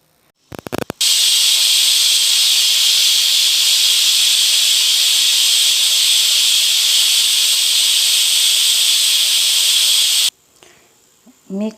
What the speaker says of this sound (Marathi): मी कुकरला 3 शिट्ट्या दिल्यात